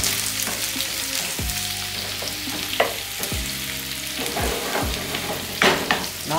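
One large sliced onion is dropped into five tablespoons of preheated oil and sizzles loudly, with steady frying hiss broken by clinks and scrapes as it is stirred in the pan.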